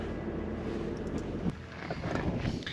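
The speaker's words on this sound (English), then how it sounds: "It's a little windy up here." Gusty wind buffets the microphone at a high Wyoming overlook, a low rumbling roar that rises and falls with a few small knocks.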